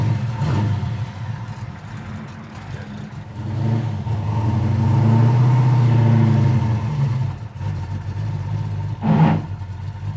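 1966 Chevelle SS V8 cruising at about 2,500 RPM near 60 mph: a steady, loud low engine drone from inside the car that swells briefly mid-way, with road noise and no talk.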